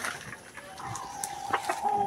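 Farm chickens, including an old laying hen, cluck and squawk close by in a series of short calls with a brief sustained cry, over a light outdoor background.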